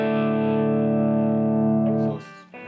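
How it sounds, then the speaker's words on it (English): Electric guitar through a Jet City 22H amp on the overdrive channel with preamp at 2 and volume just over 1, a sustained distorted chord ringing out loud and then cut off, followed by a brief scratchy pick noise. "Here's the preamp on the overdrive channel at 2, and again the volume's just over 1."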